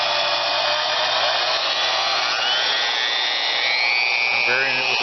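DeWalt DWM120K deep-cut portable band saw runs continuously at close range, a loud whining motor whose pitch rises and shifts as the trigger varies the speed, with a brief dip near the end.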